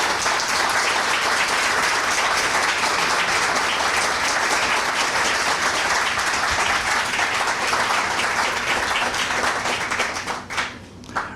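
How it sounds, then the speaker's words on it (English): A conference audience at an environmental sector leadership event applauds its panel with a loud, dense, sustained clapping that stays full throughout and then thins out near the end. "Please give our panel a round of applause."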